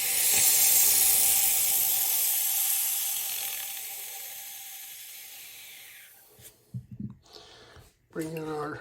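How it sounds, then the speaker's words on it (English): A coffee machine's steam wand is purged before milk is steamed, giving a loud close hiss that gradually fades over several seconds, followed by clunks and a voice. "Let's purge our machine."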